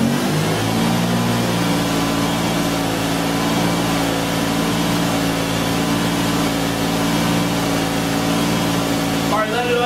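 Engine of a 2000 Lexus RX 300 with a no-start fault held at a steady fast idle around 2000 RPM, a continuous loud hum with stable harmonics throughout, close to the microphone, with a brief shift near the end.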